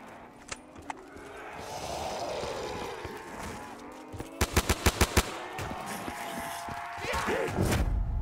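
Trench gun shotgun blasts in Call of Duty Zombies, a quick run of about six loud, sharp reports around the middle, with a couple of earlier shots and game ambience and effects beneath.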